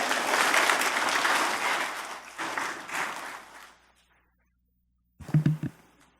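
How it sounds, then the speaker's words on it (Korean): An audience at a commemorative ceremony applauds as a guest comes up to give congratulatory remarks, with clapping for about four seconds before it trails off into silence, then a short burst of voice. "큰 박수를 맞아주십시오."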